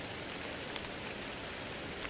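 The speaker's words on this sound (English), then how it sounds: "we're sitting here talking in the rain" Rain falls steadily in Japan as a faint, even hiss of drops, with occasional small taps standing out against the wash.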